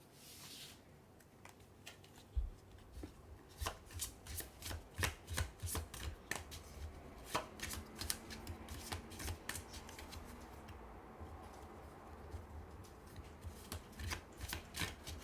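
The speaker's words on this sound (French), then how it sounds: "J'arrive pas à prendre la carte." Tarot cards being shuffled and handled close up, with a steady run of soft riffling slaps and rubbing strokes in an irregular rhythm and no speech over them.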